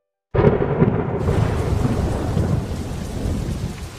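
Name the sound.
heavy rain in a Doraemon film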